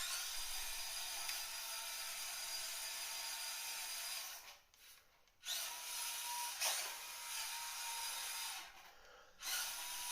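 A tiny FMS 1/24 scale RC crawler drives across the floor at low speed, its small motor making a faint, high whine that rises and falls, stopping briefly twice before starting up again.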